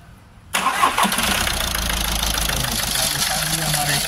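Skoda Rapid car engine cranks and catches at about half a second, then settles into a loud, steady idle with a rough, slightly knocking rumble close to the microphone.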